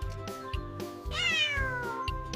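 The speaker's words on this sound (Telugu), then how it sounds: "సి అంటే క్యాట్" A cartoon cat meows once in a rising, drawn-out call in a kids' animated alphabet lesson, heard clearly over a soft repeating background tune.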